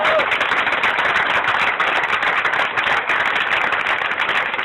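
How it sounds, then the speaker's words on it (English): A crowd at an outdoor mural unveiling ceremony claps together, a dense, continuous patter of many hands held at an even loudness from start to finish. "We can clap for our immigrant community right here in the city."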